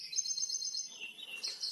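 White-rumped shama (murai batu) singing a rapid series of high, thin whistles and chirps, moderately close and alone without talk.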